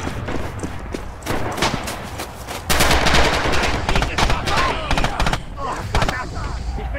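Rapid bursts of automatic gunfire from a 30-round weapon in the Rising Storm/Red Orchestra 2 Winter Forest map, loud sharp cracks in clustered volleys with some quieter distant shots scattered throughout.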